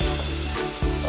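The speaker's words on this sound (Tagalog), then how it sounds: "Luto lang sibuyas." Onions frying in a pan for Cebuano-style dugodugo, a steady close sizzle with faint stirring that runs continuously and briefly dips before resuming, no voices over it.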